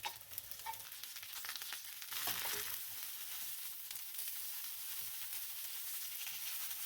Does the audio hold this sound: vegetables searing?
yes